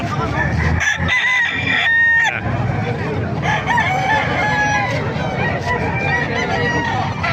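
Several roosters crow repeatedly, overlapping loudly and close by, while people chatter in the background among clucking fowl at a chicken market in Calumpit, Bulacan.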